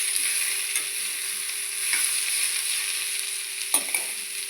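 Onions sizzling steadily in a frying pan for a Tamil vegetable stir-fry (poriyal), with a few soft scraping stirs of a spoon against the pan; a continuous close, moderate hiss with no talking.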